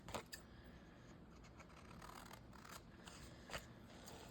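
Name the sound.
scissors cutting paper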